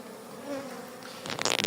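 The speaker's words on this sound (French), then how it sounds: "quand je vois le nombre d'abeilles dans le nourrisseur" Many honey bees hum steadily in a hive feeder just opened from the top, a close, continuous drone that swells into a brighter, louder buzz near the end.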